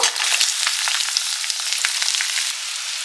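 Tempering spices with whole black peppercorns, plus a ground paste of ginger, garlic and green chili, fry loudly in a hot pan. The close, crackling sizzle carries on without any voices.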